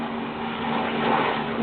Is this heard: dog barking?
no